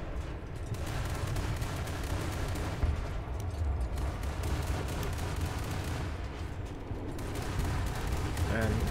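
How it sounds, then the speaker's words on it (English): Aircraft gunners rattling off machine-gun fire in War Thunder, a dense continuous stream of rapid shots and rumbling battle noise that keeps going throughout at moderate loudness with no clear pauses. "And you can see our gunners are just shooting at God knows what at the moment."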